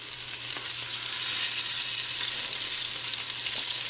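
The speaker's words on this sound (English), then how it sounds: "We're going to deglaze this a little bit by adding some of our liquids." A pan holding smoked pork for an egg roll bowl is deglazed with sesame oil, and a loud continuous sizzle rises and holds with a bright hiss, a few faint stirring ticks underneath, no talking.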